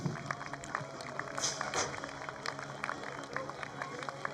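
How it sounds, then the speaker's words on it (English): Spectators clap at an amateur cycling race meeting, a steady patter of applause from a modest crowd, heard under an announcer's voice and outdoor bustle. "Let's give a round of applause"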